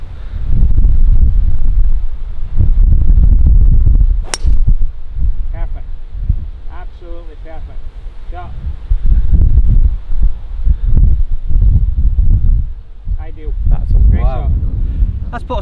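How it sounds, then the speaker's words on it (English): Steady, loud wind buffets the microphone on a links golf course in East Lothian, gusting throughout while someone talks over it. "Now it can get windy again, eh?"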